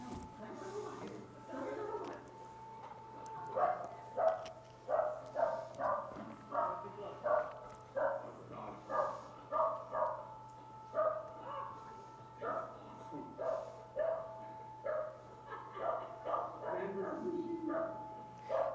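A dog barks and whimpers in a rapid, repeated series of short yelps throughout, under a steady low hum and with a person talking intermittently over it.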